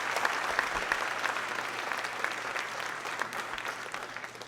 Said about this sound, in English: Clap your hands, please, for Commissioner Terrence Jackson.